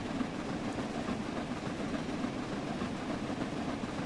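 Steady rumbling of a train running on rails in Train Sim World 4 on the East Coast Main Line, a continuous rolling drone with a faint rhythmic clatter and no talk.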